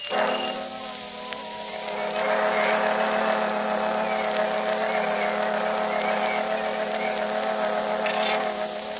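Fire engines drive off in an old-time radio drama sound effect, a sustained droning engine and siren-like whine that swells after a couple of seconds and holds steady, fairly loud, with no talk over it.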